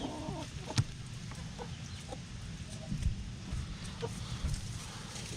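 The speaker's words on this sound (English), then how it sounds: "The chickens and the turkey always come around when it comes butchering time." Backyard chickens and a turkey clucking and calling softly at a distance, a few short sharp notes over a low steady background with no speech.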